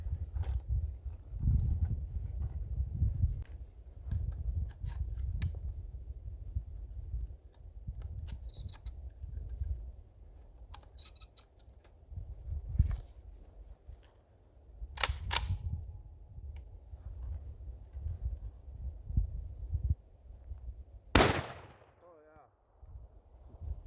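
Shots from a Panzer EG200 airgun firing 1/8 ounce steel BB shot outdoors, a few sharp cracks spread across a noisy, rumbling background, with one especially loud crisp report near the end.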